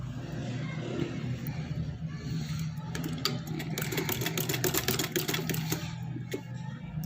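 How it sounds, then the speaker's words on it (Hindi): Sewing machine stitches fabric for a kurti frill with a steady, fast mechanical rattle close by at low volume, and quiet handling noises around it. "हम थोड़ी सी सिलाई लगा लेंगे यहाँ पे।"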